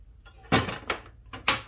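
A workbench drawer holding router accessories is pulled open, giving a few short wooden slides and knocks, close and fairly quiet with no talking.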